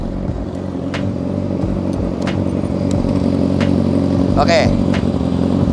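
A Yamaha R6 motorcycle engine with an aftermarket exhaust runs steadily and loud close by, revving gently, while people talk over it.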